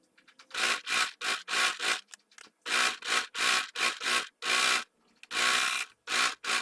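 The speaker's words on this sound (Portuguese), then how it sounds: "Costurar um pezinho de máquina aqui." Sewing machine stitching a hem seam on a Christmas dish towel, with backstitching at the start and end, in loud rapid bursts of stitching separated by short pauses, close up with no talking.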